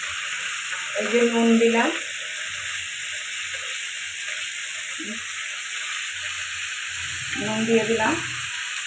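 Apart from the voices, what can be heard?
potatoes and onion stalks frying in a pan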